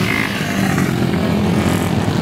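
Vintage open-class motorcycles racing on an ice track, a loud continuous engine drone with shifting pitch and a faint scraping edge, no voices over it.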